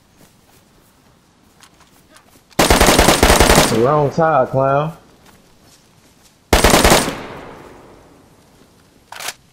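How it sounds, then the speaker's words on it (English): Loud automatic gunfire bursts out twice in the video game DayZ, each a rapid close volley, the second trailing off in a long echo, with someone briefly speaking between them. "I hear them gunshots too."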